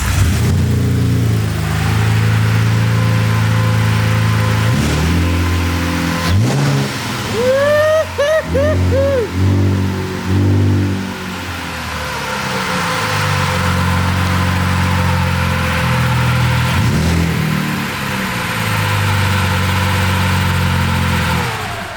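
A BMW E46 325Ci fitted with an EcoBoost engine runs roughly with a bad misfire, a loud, uneven idle that is revved a few times, with people talking briefly midway.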